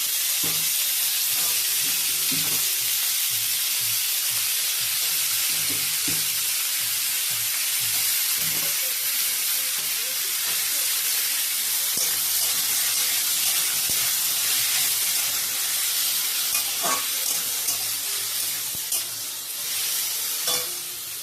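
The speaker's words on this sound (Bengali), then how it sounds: "এদিকে আমি লঙ্কা 5 ফোড়ন দিয়ে দিলাম, টমেটো তুলে দিলাম, টমেটো চাটনি করবো।" Tomatoes frying in hot oil with chilli and five-spice for a tomato chutney, giving a loud, steady sizzle and hiss that runs unbroken, with faint stirring knocks and no talk.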